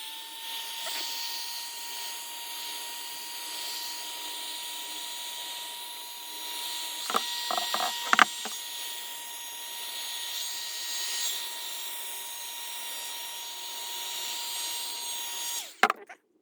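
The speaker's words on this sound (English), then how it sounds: "So I'm going to use my heat gun" A heat gun runs steadily, drying metal boat trailer parts after electrolysis rust removal, its broadband whoosh constant throughout with a few brief clunks and handling knocks near the middle and end.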